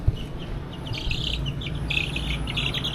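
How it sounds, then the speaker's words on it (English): Repeated high bird chirps flutter over a steady low rumble of background noise, fairly close and moderately loud. "When you hear that change, that chirping, it's like an alarm clock."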